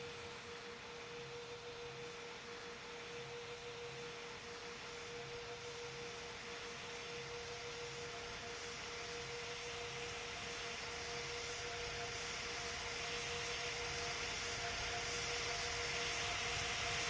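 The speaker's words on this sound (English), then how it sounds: "Scandalian 3001, clear to take off from runway 15" Airliner taking off from a runway in the Roblox Pilot Training Flight Simulator game, a steady jet engine roar with a constant tonal whine, growing slightly louder over the run with no voices.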